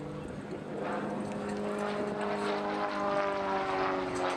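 An Extra 300S aerobatic propeller aircraft performs at the Midlands Air Festival, its engine droning steadily and growing louder, heard from a distance across the air show field.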